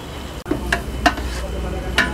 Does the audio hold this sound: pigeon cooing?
no